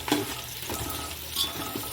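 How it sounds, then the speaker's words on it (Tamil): Onions and green chillies sauté in a pan for a mushroom biryani, with soft sizzling under scraping stirs and light clinks of a utensil against the pan, close and moderately quiet. "இந்த வெங்காயம் நல்லா பொன்னிறமாக வதங்கி வரட்டும்."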